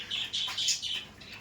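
Kaldom pigeons in a loft give repeated bird calls with a pulsing rhythm, mixed with soft wing flutter, moderately close and with no talk.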